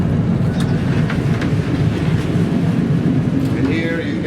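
Inside a clean passenger train crossing Europe from Poland toward Ukraine, the carriage gives off a constant low rolling rumble on the rails, with a person speaking over it.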